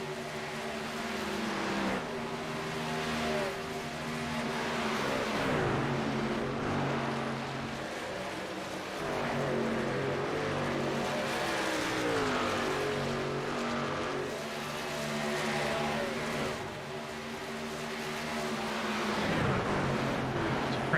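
Stock cars race at Charlotte Motor Speedway during the Kelsie's Fight 200, their engines a loud, continuous roar that swells and dips as cars sweep past in waves, with no talk.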